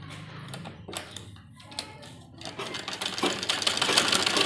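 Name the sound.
sewing machine stitching an umbrella palazzo's elastic waistband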